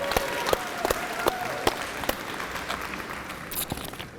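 Scattered applause from a convocation audience honoring scholarship students, with sparse, distinct claps over a low murmur and a faint voice, fading toward the end.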